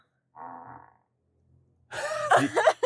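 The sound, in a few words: fart sound effect set as XPeng car lock sound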